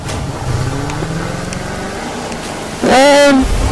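A boat engine in The Crew 2 racing game drones steadily at first, then climbs into a loud, rising rev near the end, with a faint voice underneath.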